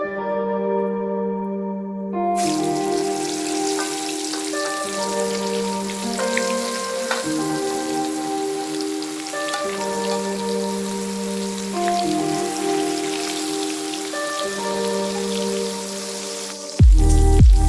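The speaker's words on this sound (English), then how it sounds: "Coat the liver with 1 tablespoon of flour and fry for 3 minutes." Flour-coated beef liver fries in a pan with a steady, close sizzle that runs the whole time beneath background music, ending in a brief louder burst.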